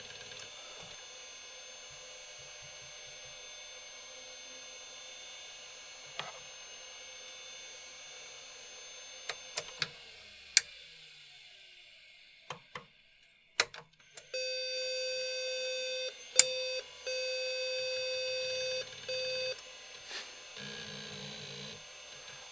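A series of electronic beeps and tones from an NEC PowerMate SX/20 computer signalling a startup error, with clicks and a sustained buzzy tone in the latter half, no talking.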